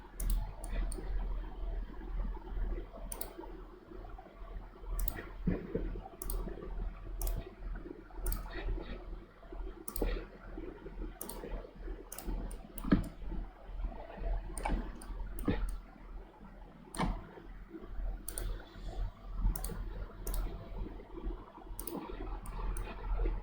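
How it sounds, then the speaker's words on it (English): Computer mouse clicking at a desk, a long series of sharp, faint clicks at irregular intervals, sometimes in quick pairs, over a low steady background hum. "Let's go right click, right click"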